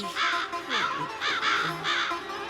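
Crows caw four times in a steady, evenly spaced series, each call harsh and close, standing out clearly over a faint background.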